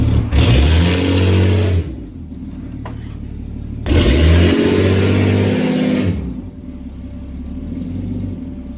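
Ford AU Falcon engine with a solenoid switch turned on, revved hard twice in close succession, each loud rising rev sustained about two seconds before dropping back to a steady idle rumble.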